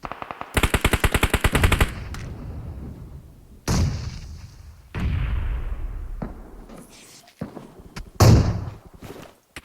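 Machine gun fire in a PUBG Mobile classic match: a loud, rapid burst of automatic shots followed by further single heavy bangs and short bursts with pauses between them.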